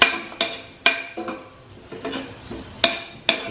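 Chop suey ingredients are stirred in a pan, with a metal utensil striking the pan in a run of sharp, irregular clanks at close range and a faint sizzle underneath.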